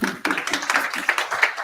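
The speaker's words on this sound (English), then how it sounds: "Please give applause." Audience at an English-language tech lightning-talk meetup clapping after a presentation, a small group producing distinct, fairly close hand claps in a brisk, uneven patter.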